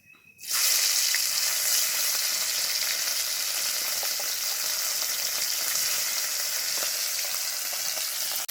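Pieces of bata fish sizzle steadily in hot oil in a kadai, giving a dense, constant crackling hiss that runs unbroken at a fairly even loudness throughout.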